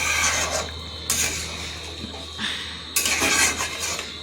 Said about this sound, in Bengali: ভালো মতন একটু নাড়াচাড়া করে নেব।